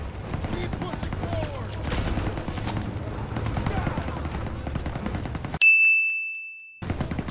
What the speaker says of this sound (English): Oh, that was a grenade.